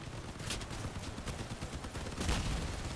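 Deployed turret firing in Crossout, a rapid stream of gunshots hammering steadily with a few sharper louder bursts, moderately distant under a busy battle background.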